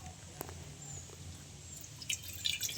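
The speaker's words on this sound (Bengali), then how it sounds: "একদম অল্প করে জল দেবো।" A small amount of water goes into a hot kadai (wok) while khoi murki is being made, producing faint, sparse drips and light splashes against quiet background noise. A few sharper drops come near the end.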